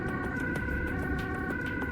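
An ambulance siren sounds steadily and close by as the ambulance moves along a congested Dutch highway in Amsterdam rush-hour traffic. The tone is continuous and unbroken over road noise, with no talking.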